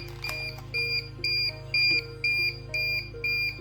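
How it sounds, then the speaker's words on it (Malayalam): A Honeywell Impact wireless smoke detector sounds a series of sharp, high, regular alarm beeps, about seven in a steady rhythm, up close over a low electrical hum. "ഇപ്പോൾ വീണ്ടും നമുക്ക് അലാം കേൾക്കാം."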